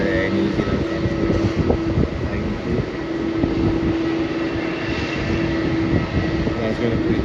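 Airliner taxiing at Melbourne Airport, a steady distant jet engine hum with a sustained tonal whine under wind buffeting, continuous and fairly loud throughout.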